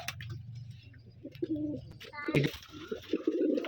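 Pigeons at a pigeon farm give repeated low, throaty coos, close and clear, with a person speaking briefly among them.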